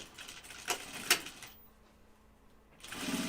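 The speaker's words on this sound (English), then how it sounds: "A little speed sewing because I want to get to the handle and see it done" A sewing machine stitches a Wallaby bag at speed, giving rapid mechanical bursts with sharp clicks, then a brief quiet pause before the motor starts up again, close by and with no talk.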